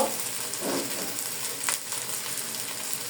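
Cabbage frying with spices and ginger-garlic paste in a pan, a dense continuous sizzle close by with a brief scrape of stirring, steady and unbroken, no talking.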